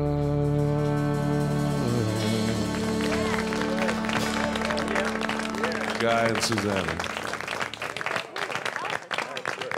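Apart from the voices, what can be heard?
audience applause and cheering after a live song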